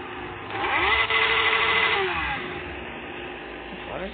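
Honda Hornet motorcycle engine in a game simulator revs up loudly and holds high, then drops back and rises again briefly near the end, with a voice talking over part of it.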